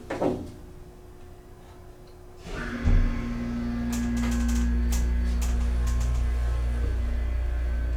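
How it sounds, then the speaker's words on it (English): A vintage 1972 Otis Lexan elevator motor starts up after a thump, settling into a loud, steady low drone that runs to the end, close by, with faint clicks above it. "Listen to this motor."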